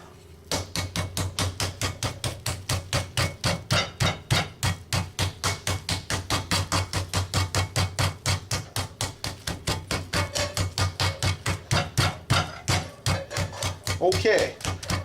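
A meat mallet pounds pork tenderloin flat under plastic wrap, a fast steady run of dozens of close, loud, dull thuds that continues without pause through the whole stretch.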